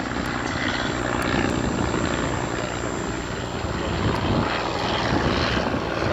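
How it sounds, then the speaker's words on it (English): The engine of a Fokker DR1 triplane drones steadily and loudly at the Duxford Battle of Britain airshow, with a commentator talking over it. "And then Paul Ford's DR1, which he spent a great many years building to very detailed specifications."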